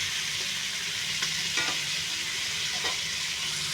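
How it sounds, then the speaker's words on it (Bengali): Fish with turmeric and Kashmiri chilli powder frying slowly in a pan, a steady even sizzle with a couple of soft stirring scrapes, near and continuous without talk. "আস্তে আস্তে ভাজা হয়।"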